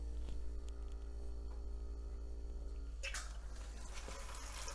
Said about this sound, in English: I'm going to go ahead and start the pump here. See if we can't get this beer flowing.